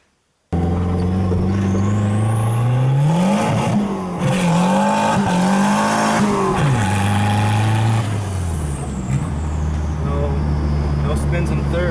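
Turbocharged car with an internal wastegate spring mod accelerating hard, engine note rising and falling through the revs with a shift in the middle, loud and close in the cabin, with a person talking over it.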